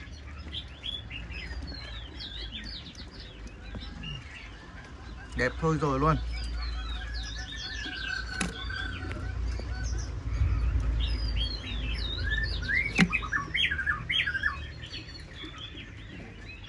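A wild-caught hwamei, or Chinese song thrush, sings in rapid varied chirps and whistles close by. The song runs steadily throughout, and someone talks over part of it.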